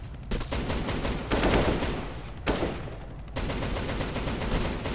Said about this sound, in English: we shoot it with the M249, dude